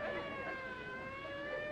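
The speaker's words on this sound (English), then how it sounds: "Them sirens! Somebody's calling the law." A faint, steady siren wails with slowly shifting tones in the distance, alone and without voices.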